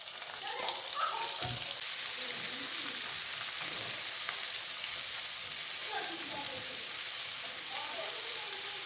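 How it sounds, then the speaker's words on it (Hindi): Chopped onions sizzle in hot oil with cumin in a pan, a steady close crackle broken by a few clinks and scrapes of stirring. "प्याज भी फ्राई हो गया"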